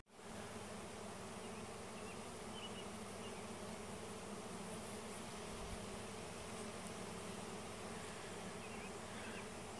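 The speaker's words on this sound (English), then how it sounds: "It ain't rain. It's bees, people." A swarm of honey bees buzzes continuously, a dense, steady drone of many insects, with no voices.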